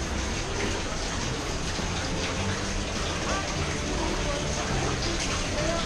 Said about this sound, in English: And there's like that big waterfall.